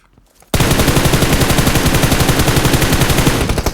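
Sustained automatic gunfire in a PUBG match at Georgopol bursts in after a near-silent moment, a loud rapid stream of shots with an even rhythm that continues to the end without pause.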